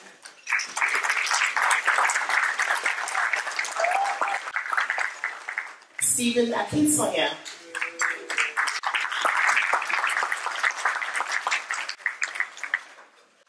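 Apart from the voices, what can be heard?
audience applause at a gala dinner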